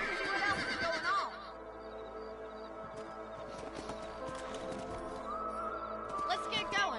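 Horses in the Western video game Red Dead Redemption, with a whinny near the start and clip-clop hooves under steady game music and voices talking throughout.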